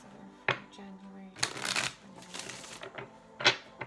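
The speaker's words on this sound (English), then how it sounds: "One more shuffle." Tarot cards are shuffled in quick, crisp riffling bursts, with a few separate rustling flurries spread across a few seconds, close up and fairly loud against a quiet room.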